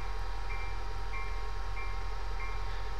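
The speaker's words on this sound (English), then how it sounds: "I'm now going to apply the brakes to slow down" Steady rumble of a passenger train slowing for a short platform on the West Palm Beach to Fort Lauderdale route in Train Simulator 2015, with a continuous low drone and faint repeating high tones.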